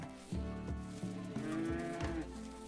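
Muffalo mooing in the video game RimWorld: a few long, low, drawn-out bovine moos layered over each other, moderately loud with no talking.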